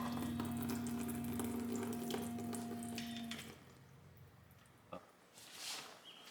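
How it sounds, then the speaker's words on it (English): Coolant drains from a KTM 250SX motorcycle engine in a steady pouring stream for a few seconds alongside a faint hum, then trails off into quieter drips and small clinks. "now we're going to drain the coolant because we're going to be removing the pump"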